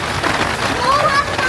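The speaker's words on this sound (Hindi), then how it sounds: "इतनी भयंकर बारिश हो रही है।" Heavy monsoon rain pours down steadily during the Sawan season, a dense, continuous hiss of water that stays loud and unbroken from start to finish.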